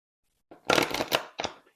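Tarot cards being shuffled by hand at a reading table: a burst of rapid papery riffling and slapping, then a brief second flurry, close and clear against silence.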